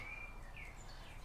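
A distant bird sings a faint, thin whistled note followed by a couple of soft sliding chirps over a steady low ambient hum.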